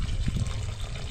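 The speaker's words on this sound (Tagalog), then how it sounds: "Malakas ba dito ang patubig?" A strong stream of water gushing from a tap, close and loud with a rough, splashing rush that continues steadily throughout.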